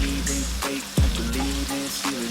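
Tomato paste frying in a pan for a Ghanaian red fish gravy, giving a brief, steady sizzle with a single sharper stir sound partway through.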